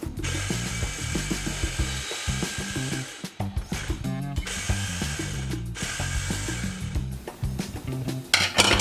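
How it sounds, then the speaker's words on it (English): A food processor minces onion and garlic, a loud, close, rough grinding and chopping churn with brief pauses, running for several seconds without talk. "get your food processor or blender, and you wanna mince all this together"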